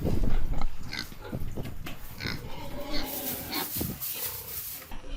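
Pigs grunt and oink on a farm, several close, rough snorts and squeals overlapping under steady talk, with busy barnyard background noise throughout.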